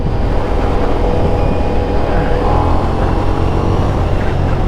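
Ducati Diavel V4 motorcycle engine while riding, a loud, continuous, dense rumble mixed with rushing wind and road noise, steady throughout with no clear shifts or pauses.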